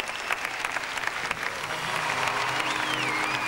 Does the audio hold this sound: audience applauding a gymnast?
yes